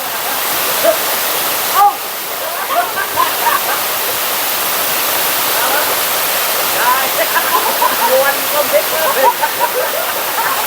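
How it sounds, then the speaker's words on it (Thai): The Phu Pha Sawan waterfall in Phang Nga roars as a steady broadband rush of falling water close by, with scattered splashes and someone talking over it. "ชื่อน้ำตกภูผาสวรรค์นะครับทุกคน"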